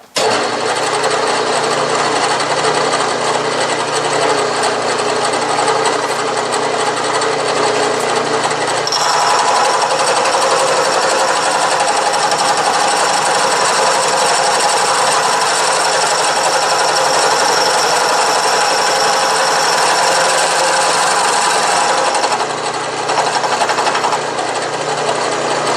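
A milling machine at 660 RPM cuts a gear tooth with a dividing head, giving a continuous loud whirring, chattering grind with a steady hum beneath and a slight change in pitch partway through.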